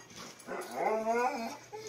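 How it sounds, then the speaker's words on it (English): A puppy whines and whimpers in a high, wavering drawn-out cry at close range, with a person's voice nearby around it. "What's he whining about now?"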